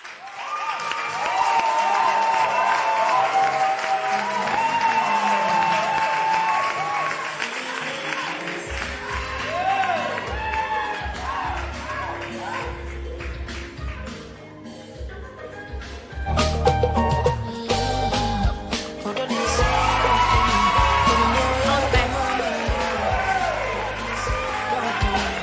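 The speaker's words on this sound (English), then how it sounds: "a round of applause for our first contestant" Studio audience applauds and cheers for Tracy, the first contestant on a TV talent show, with music and crowd noise swelling loudly throughout, and a burst of renewed clapping near the end.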